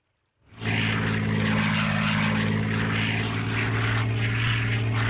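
Propeller-driven reconnaissance planes from the strategy game Panzers Phase Three roar in after a brief silence, a loud, steady droning engine hum that holds for several seconds with no talk over it.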